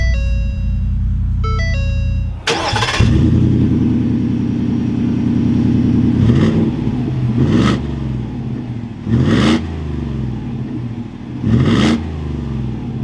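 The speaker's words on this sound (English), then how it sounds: "with my foot on the brake, we can start this up." A 2021 Ford F150 XLT Rocky Ridge K2 pickup's engine cranks and fires up loudly after a chime sequence, then settles into a steady idle with a few brief revs, heard close and clear.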